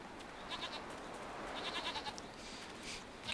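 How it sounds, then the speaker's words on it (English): Goats bleat in a fantasy martial-arts game village, several short cries repeating over a steady ambient bed, moderately near and fairly faint. "Cute goats."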